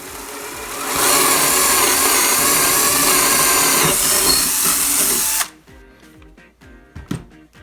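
A cordless Dewalt power drill bores through wood resting on a pipe, a loud sustained whine for several seconds that stops abruptly, followed by quieter clicks and handling knocks.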